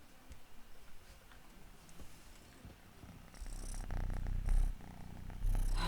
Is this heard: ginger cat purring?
yes